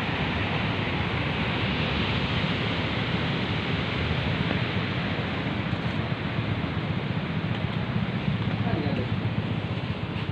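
Steady broadband wash of surf rolling onto a clean tropical beach, continuous and fairly loud, with wind buffeting the microphone and no distinct breaks between waves.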